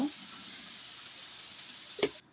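Finely chopped cauliflower stirred and fried in a pan, giving a steady, soft sizzle throughout with a brief scrape of the utensil near the end before it cuts off.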